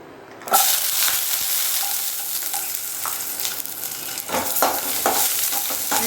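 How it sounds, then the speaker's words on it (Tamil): Garlic cloves sautéing in a pan for garlic tomato chutney: after a brief quiet start, a loud, steady oily sizzle sets in, broken by scraping and clacking stirring strokes, with no voices. "இப்போ பூண்டு பல் சேர்க்க போகிறோம்."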